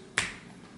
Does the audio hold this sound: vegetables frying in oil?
no